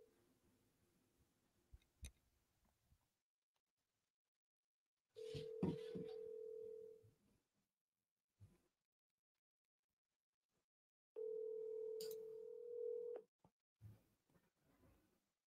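Two long ringback tones sound while an outbound call goes through to agents in Columbus. Each steady tone lasts about two seconds and comes in two separate bursts, with faint clicks and silence between them.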